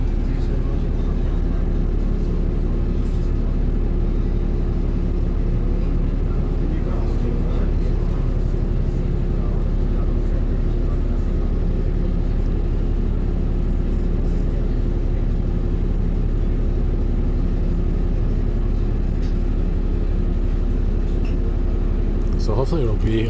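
Inside a 2019 STL Laval city bus running northbound on route 39 through Auteuil, a steady low engine and road rumble drones throughout, with faint rattles and brief clunks near the end.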